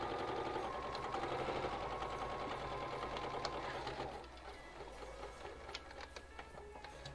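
A sewing machine back stitching the top of a pocket on a travel bag runs in a loud steady whirring burst, then drops to a lighter, slower rattle with clicks near the end.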